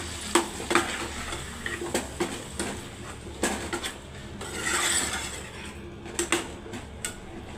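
A spoon stirs mushroom curry frying in a pan, with steady sizzling under repeated scraping and clinking strokes against the metal, close and moderately loud, no voices.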